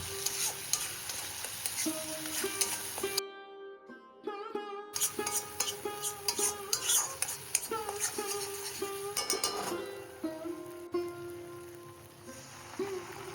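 Spice paste with cloves, cinnamon, salt and turmeric sautés in oil for a prawn malaikari, with a crackling sizzle and repeated spatula scrapes and knocks against the pan, broken by a short quiet gap.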